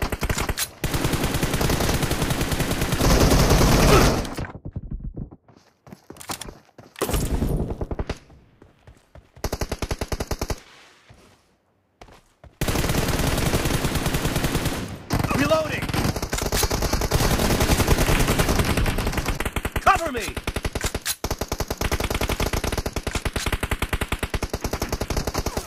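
M416 rifle fire in the mobile shooter BGMI, long loud sprays of rapid automatic shots broken by short quiet gaps, with faint in-game voice callouts.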